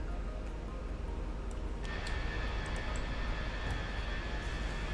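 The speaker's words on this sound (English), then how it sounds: "I'm gonna turn on the engine sounds a little bit." Airbus A320 engines in a flight simulator game: a loud, steady jet roar with a high whine that rises and holds partway through, running continuously with no talk.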